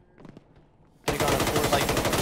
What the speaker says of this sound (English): Something keeps activating my full auto